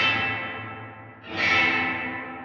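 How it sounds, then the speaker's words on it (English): Guitar played through a dark reverb on a Line 6 Helix with the mix at full wet, a sustained washy tone that dips briefly and then swells again, with a smeared, echoing tail and no talking. "Kind of a darker reverb."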